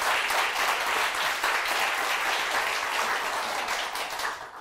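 A studio audience on a Turkish TV show claps in sustained, dense applause that holds steady and then tapers off at the very end.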